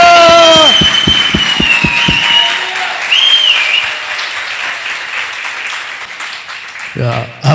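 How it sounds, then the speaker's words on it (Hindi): Applause from a church congregation during a Christmas sermon, a dense wash of clapping that fades gradually while a voice speaks over the crowd. "आप अपने दोनों हाथ उठाकर ताली बजाएंगे।"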